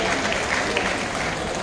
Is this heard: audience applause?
yes